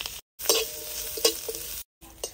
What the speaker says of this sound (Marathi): आपण आता कांदा भाजून घेणार। चांगला भाजावा म्हणून आपण त्यात थोडे तेल टाकून घेणार।